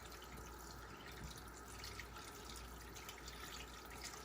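Running tap water rinses blood out of a goose carcass during butchering, a steady, moderately faint splash and trickle that continues throughout without talk.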